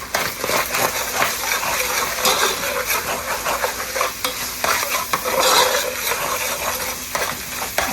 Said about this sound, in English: Let's give that a stir for a second.